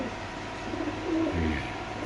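Racer pigeons coo softly in a pigeon market, low rolling calls rising in the middle and trailing off against a quiet steady background.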